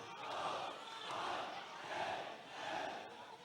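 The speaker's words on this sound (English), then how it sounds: "You can hear the loud cheer of the Royalists." A school basketball finals crowd cheering for the Royalists during free throws, rhythmic chanting in rising and falling waves of voices.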